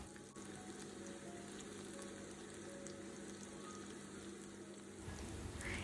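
Garlic and the white part of spring onion frying in butter in a pan, a steady, quiet sizzle and crackle throughout, with a slightly louder surge near the end.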